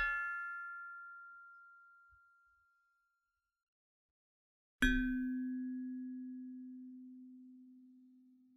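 A computationally designed metal metallophone struck twice, each hit a bright clean ding with ringing overtones that decays slowly, the second strike lower and longer-sustaining, heard alone in silence.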